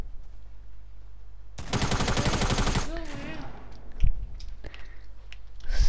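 Rapid burst of gunfire in the Fortnite video game at the starting island, a dense loud volley lasting over a second, followed by scattered clicks and a single sharp shot.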